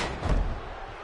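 A chokeslam impact in the WWE 2K16 wrestling video game lands as a single low, heavy thud on the mat, with a brief boom that fades quickly against a faint arena background.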